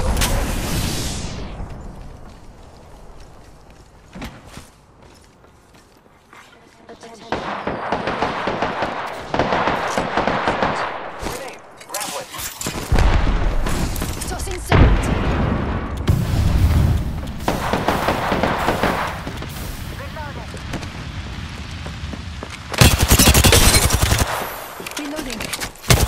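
Gunfire and grenade blasts from the video game Apex Legends rattle in dense, loud bursts with booming explosions, broken by quieter gaps and brief in-game voice lines.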